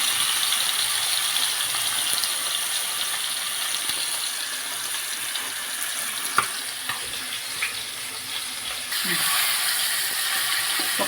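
Chicken leg pieces fry in oil on a stove, a steady broadband sizzle running throughout at even loudness, with a few faint clicks and a slight shift near the end.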